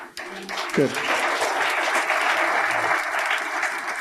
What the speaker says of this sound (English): audience, it's okay to applaud